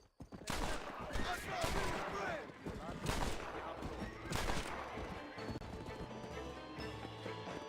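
Gunfire in Red Dead Redemption, a few sharp cracks with a horse whinnying amid game noise, under someone talking.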